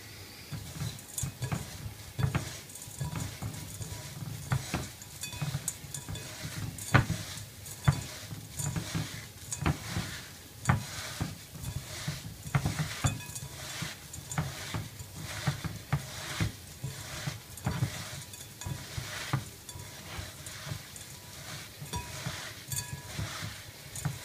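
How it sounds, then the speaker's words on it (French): Crushed Oreos stirred with melted butter into a paste: steady scraping and clicking of a utensil against a bowl, soft and rhythmic, repeating for a long stretch with no talk. "on va tout mélanger de façon à ce que le beurre s'imprègne dans les Oreos et qu'on obtienne une sorte de pâte"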